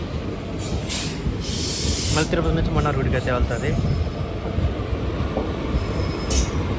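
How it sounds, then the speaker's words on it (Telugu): A Pamani Express passenger train runs along a single-line track between Mannargudi and Tirupati, giving a steady loud rumble with wheel squeal and hiss, while someone talks over it throughout. "సో ఈ ట్రైన్ వచ్చేసి మన పామిని ఎక్స్ప్రెస్ ట్రైన్ ఇది"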